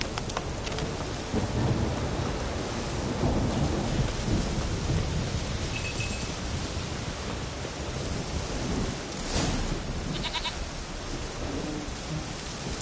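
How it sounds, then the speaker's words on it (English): A video-game thunderstorm on PS4 rolls with steady heavy rain and deep rumbling thunder, building to louder cracks partway through, continuous and dense with no speech over it. "Storm, damn it."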